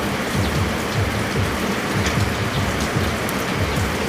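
Steady, dense rain falls continuously at close range, a hissing wash of drops with no voices or other sounds standing out.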